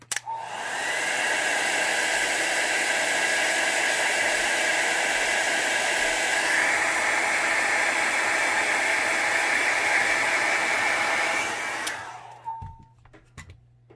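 A hair dryer drying alcohol ink artwork, a loud steady close whoosh and motor whine running about eleven seconds before it switches off and spins down.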